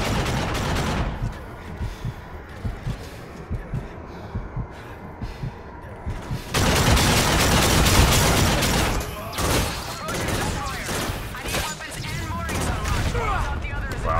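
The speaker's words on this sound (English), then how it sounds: "How do these people not die from freaking laser shots?" Rapid bursts of laser gunfire in a Call of Duty Infinite Warfare battle, quieter intermittent shots at first, then a dense, loud stretch of continuous firing and impacts in the second half.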